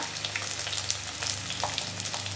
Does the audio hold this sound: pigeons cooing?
no